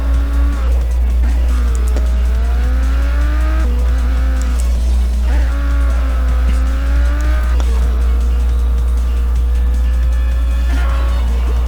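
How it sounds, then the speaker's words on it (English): Race car engine in Race Driver: Grid laboring uphill on a reversed track, a loud continuous drone with pitch that rises and falls repeatedly as it strains and shifts, with a low rumble underneath throughout. "It's going to be uphill, obviously, and we'll feel the engine struggling at certain points"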